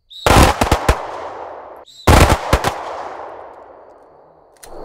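Gunfire during a firearms drill: two quick bursts of three to four sharp, loud shots each, about two seconds apart, every burst trailing off into a long echoing decay, heard close up with no talk.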